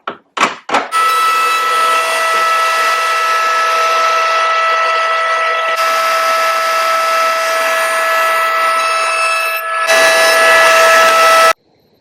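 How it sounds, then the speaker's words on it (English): A router table cutting a 45-degree chamfer on the end of a wooden drawer-front piece: the motor spins up with a sharp start, then holds a loud, steady high whine for about ten seconds before cutting off. "I'll basically run this through the router table"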